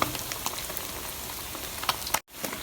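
Snakeskin gourami fish deep-frying in hot oil over a low flame, a steady crackling sizzle with scattered pops, cut by a brief dropout near the end.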